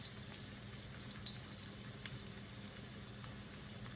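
Ginger frying in oil in a wok, a soft, steady sizzle with faint crackles and pops, quiet and close with no voices.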